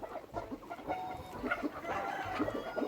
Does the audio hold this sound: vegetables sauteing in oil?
no